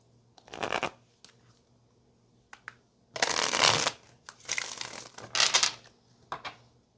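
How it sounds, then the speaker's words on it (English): A tarot deck is shuffled by hand in several crisp riffling bursts of varying length, close and fairly loud, with short quiet gaps between them and no talking. "we're going to go ahead and just get two more shuffles here for Pisces"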